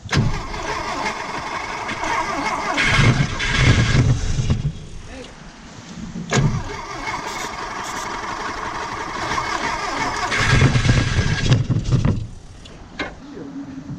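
A 1973 Porsche 914 engine, sprayed with starting fluid, cranks and fires in two rough bursts, catching briefly and dying each time, close and loud, with voices heard between attempts.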